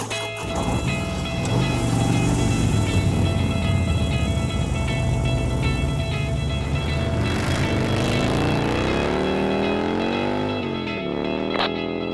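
Two Harley-Davidson motorcycles run on a track, their engines a loud, continuous drone whose pitch rises and falls as they pass near and pull away.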